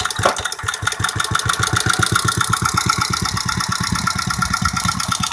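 Antique Clinton vertical engine, mounted horizontally, is kickstarted and settles into a loud, close, rapid chugging idle with an even beat throughout.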